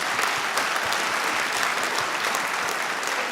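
A comedy show audience applauds loudly and steadily, dense clapping from a large crowd filling the room without a break.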